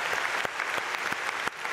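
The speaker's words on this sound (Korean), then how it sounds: "잠깐 일어나시면 우리 박수로 환영하고 축복하겠습니다" Church congregation at a dawn prayer service claps to welcome and bless three visiting pastors, a steady close wash of applause with a few sharper claps poking through over nearly two seconds.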